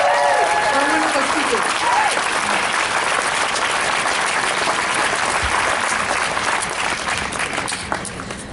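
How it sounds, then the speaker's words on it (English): A rally crowd against white supremacy breaks into dense, loud applause that holds steady for several seconds, mixed with scattered cheers and voices, and thins slightly at the end. "Let's give another round of applause."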